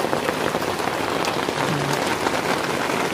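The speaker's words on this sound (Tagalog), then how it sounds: "Ang ulan dito mga kalingap. Ang lakas oh." Heavy rain pounds steadily on a roof, a dense, loud, continuous hiss and patter close by, with no voices.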